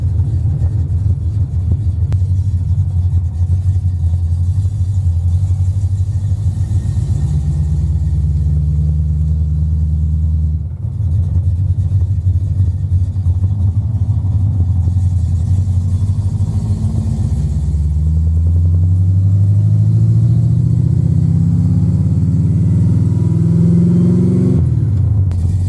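A little hot rod car rumbles steadily from inside the cabin while driving on the Hot Rod Power Tour near Bristol, a deep continuous engine drone rising briefly in pitch as it accelerates near the end, with no talk.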